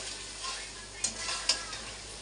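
Spice paste with a pinch of sugar sizzling in oil for chicken bhuna, a steady close hiss with a couple of sharp spoon scrapes against the pan.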